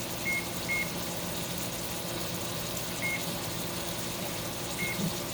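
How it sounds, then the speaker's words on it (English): A kitchen timer is set for five minutes while food cooks in a microwave, giving a few short, faint beeps at irregular intervals over a steady background hum. "let me go ahead and put my timer on for 5 minutes"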